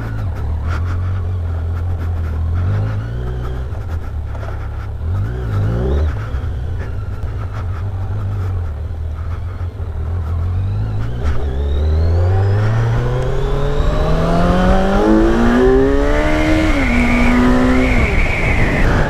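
A 2018 Kawasaki Z900 roadster motorcycle accelerating on a road, its engine droning low at first and then climbing steadily in pitch through a long, loud rev, close by.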